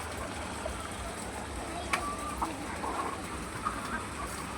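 Chickens on a village poultry farm beside fish ponds give faint, scattered clucks over a steady low outdoor background.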